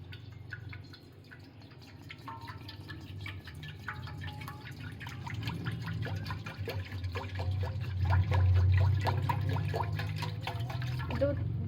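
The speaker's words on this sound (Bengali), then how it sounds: "দুধ ঢালা হয়ে গেছে" Over a kilogram of milk poured into a rice cooker pot for homemade yogurt, a steady liquid trickle and dripping that grows fuller toward the end, with a low background hum.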